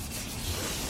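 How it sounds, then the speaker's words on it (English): Close, steady rasp of a sanding block rubbed over primer on a car body, a continuous soft scratchy hiss with no talk. "Dustin's been out here block sanding on the body of the car"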